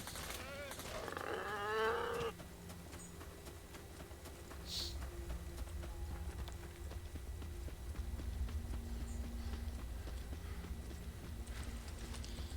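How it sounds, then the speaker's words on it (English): Boar chasing the player in the video game Stay Out, a loud grunting snort near the start, then steady trampling footfalls under game ambience. "That boar's gonna catch up to me."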